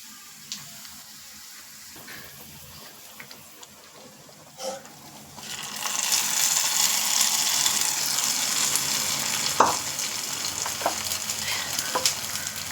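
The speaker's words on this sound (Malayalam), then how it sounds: "ഇനി നമ്മൾ റെഡിയാക്കി വെച്ചിരുന്ന ആ പാൽ ചേമ്പിലോട്ട് ഇതൊന്ന് ഒഴിച്ചു കൊടുക്കുക" Quiet pan noise and a few clinks come first. Liquid is then poured over cooked milk colocasia (paal chembu) in a pan, setting off a loud, bright hiss and bubbling that carries on, with occasional utensil taps and no voices.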